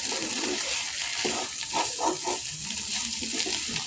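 Salted hilsa fish frying in a pan with onion and chili, stirred over and over, giving a steady close sizzle with soft scraping and stirring scuffs throughout.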